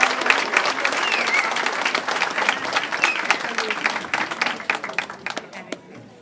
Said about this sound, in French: On applaudit M. Lemay.